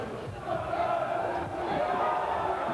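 A football stadium crowd at a Den Haag versus Cambuur match roars with amusement as rabbits run loose on the pitch. The sound is a broad, steady crowd swell with a commentator speaking over it.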